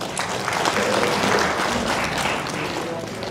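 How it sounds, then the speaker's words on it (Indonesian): Audience applause at an education quality assurance coordination meeting in East Java, a steady dense wash of many hands clapping throughout, loud and sustained with no break. "Tepuk tangan untuk Pak."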